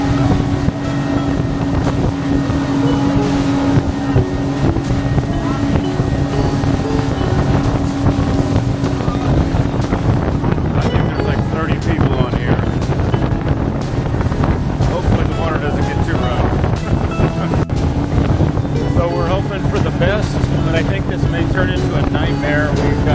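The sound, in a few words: motorboat ride with wind, heading to Yelapa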